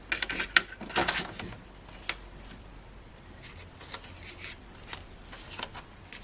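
Card being cut on a paper trimmer for cardmaking, a few quick crisp slicing and sliding strokes close by near the start, then scattered lighter clicks and rustles in a quiet room.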